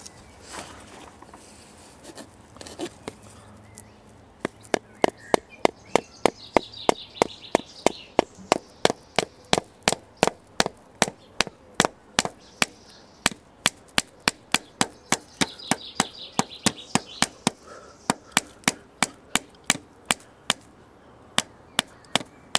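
Repeated chopping blows split a cross into the end of a wooden stick to make a survival torch, sharp knocks landing in a steady rhythm after a quiet start, close and loud with faint birds behind.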